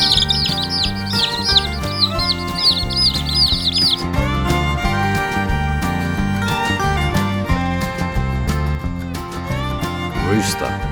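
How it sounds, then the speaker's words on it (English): A chick cheeps in a quick, high run of chirps over a bouncy nursery-song backing, the peeping clear for the first few seconds before the music carries on alone. "chick,"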